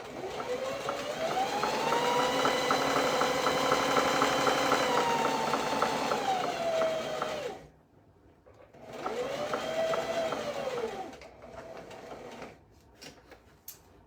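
A sewing machine stitches a dress bodice in two bursts, the motor whirring up to a steady speed, holding, then winding down, pausing briefly and running again in a shorter burst, with small clicks as the fabric is turned.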